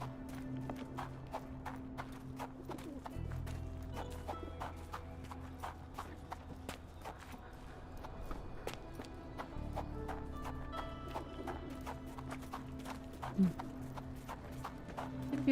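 Horse hooves gallop in a steady clip-clop rhythm through a video game, running continuously at moderate loudness over low music and ambient background.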